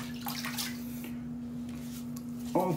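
Tap water runs steadily into a sink to re-wet the face before shaving, a soft continuous splash with a faint electrical hum underneath and a brief louder burst at the end.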